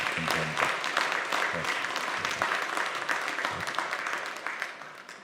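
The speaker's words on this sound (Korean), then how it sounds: "우리 새로운 가족이 된 것을 진심으로 환영하는 뜻으로 박수로 맞이하겠습니다" A church congregation at a Sunday service claps to welcome new members, with sharp individual claps standing out from a steady, moderately loud round of applause.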